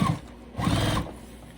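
A sewing machine stitches a vinyl crossbody bag strap in two short, close bursts of rapid mechanical whirring separated by a brief pause.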